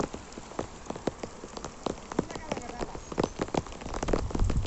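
Heavy rain pours during a storm over paddy fields in Sitanagaram village, Kajipet mandal, Kadapa district, a steady dense patter broken by sharp splashy drops, growing louder toward the end, with someone talking through it.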